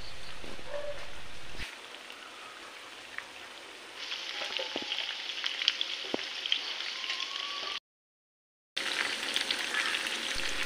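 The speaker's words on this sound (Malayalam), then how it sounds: "ഒരു സൈഡ് ഫ്രൈ ആയി വരട്ടെ." Chicken pieces with curry leaves sizzle steadily in a pan for a dry chicken fry, one side browning, a close, even crackle that thickens midway and breaks off briefly before resuming.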